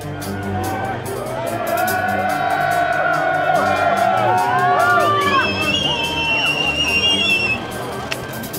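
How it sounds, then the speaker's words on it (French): A dense crowd gathered outside the Florange town hall, loud and close, with cheering, whoops, shrill whistles and a steady babble of many voices throughout. "C'est la foule des grands jours devant la mairie de Fleuranges."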